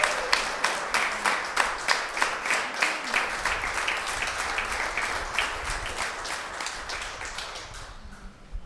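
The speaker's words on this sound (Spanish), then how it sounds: "Él se merece un aplauso" Sustained audience applause in a church congregation, dense clapping at steady loudness that fades out near the end.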